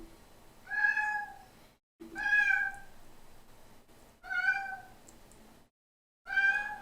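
A cat meows four times, each a clear, fairly close, drawn-out call separated by short pauses, with no talking over it.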